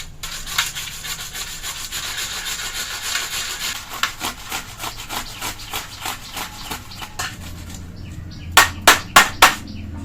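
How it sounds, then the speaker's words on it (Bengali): A tomato is rubbed by hand against a grater in a home kitchen, giving a rhythmic series of rasping strokes that speed into sharp scrapes near the end, with no speech. "এখন টমেটোটাও এইভাবেই ঘষে নিব।"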